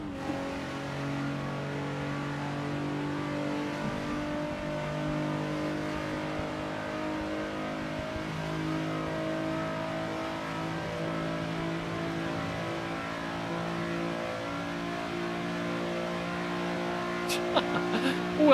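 A turbocharged race car engine in Assetto Corsa drones steadily during a 24-hour Le Mans race, a constant mid-level hum with a voice faintly over it.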